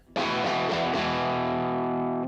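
A single clean electric guitar chord is struck through a Marshall 1987X 50-watt amp at half volume and left to ring out, sustaining and slowly fading.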